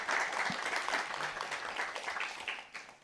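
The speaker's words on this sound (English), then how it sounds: "A round of applause to everyone." Audience applause fills a hall at the Global Art Forum, a dense, steady wash of many hands clapping that carries on evenly throughout before easing slightly at the end.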